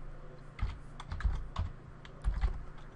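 Close clicking of computer keyboard keys as a command is typed, uneven bursts of keystrokes with soft thumps over a low background hum, no talking.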